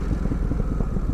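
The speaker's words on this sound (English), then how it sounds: "The pops this thing does out the exhaust at low revs." Stock exhaust of a Ducati Supersport 950S motorcycle at low revs, a loud close engine burble with a rapid series of uneven low pops and thumps, no talking.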